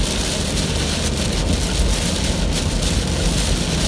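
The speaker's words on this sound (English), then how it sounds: "There's a lot of rain." Heavy rain pours steadily during a tornado chase in Illinois, a dense, loud hiss with low rumbling underneath, continuous and close, with no voices.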